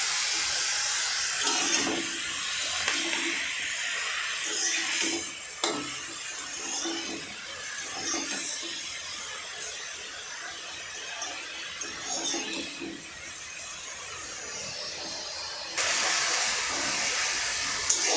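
Mushrooms sizzling in hot mustard oil in a kadai after salting, a steady broad frying hiss with small crackles that runs throughout with no talking.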